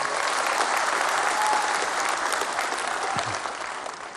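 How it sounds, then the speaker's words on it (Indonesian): A large political rally audience claps enthusiastically for several seconds, a dense, steady wash of applause that tapers slightly toward the end. "Boleh tepuk tangan yang meriah."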